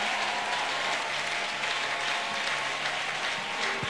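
A church congregation applauds a preaching prophet with dense, continuous clapping that holds at an even, loud level throughout, with no voices standing out.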